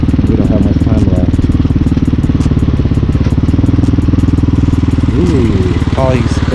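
A Hawk 250cc street-legal dirt bike rides around the block in Ohio, its engine droning steadily and close throughout with a pulsing, rattly note, and a rider's voice speaks briefly over it.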